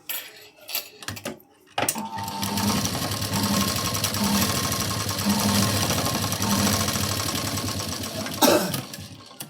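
A sewing machine stitches a tuck on a blouse in a long, steady run of rapid mechanical whirring and ticking, close and fairly loud, after some brief handling clatter at the start.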